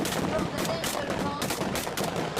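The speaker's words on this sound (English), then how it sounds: "How do they know who won since they're firing blanks?" Rapid guns firing blanks crack in quick, uneven bursts during a bodyguard competition, close and loud with little pause between shots.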